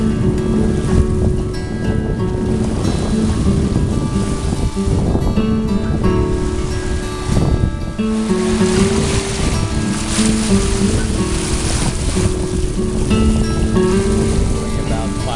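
A sailboat moves at about five knots across a calm bay, with constant close water rush and splashing from the hull cutting through the sea. The wash is loud and even, with no talk.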